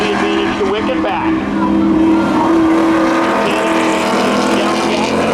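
Spectator drag race cars roar at Seekonk Speedway, a loud continuous engine drone that swells and holds, with an announcer talking over it.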